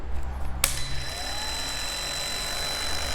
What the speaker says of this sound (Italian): Metto al massimo questa smerigliatrice angolare